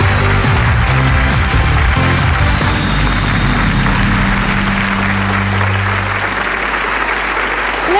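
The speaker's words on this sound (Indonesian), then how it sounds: "kita berikan tepuk tangan untuk Antonio" A studio audience at a televised dating game show applauds a male contestant, loud dense clapping and cheering that holds steady, with music underneath that fades toward the end.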